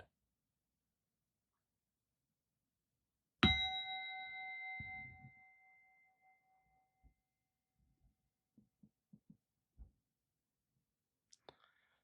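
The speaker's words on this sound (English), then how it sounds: "1 bell to signify the beginning, 3 to signify the end" A single meditation bell rings out clearly in a quiet room, its bright tone decaying over a couple of seconds, followed by soft rustles and small taps while someone settles in.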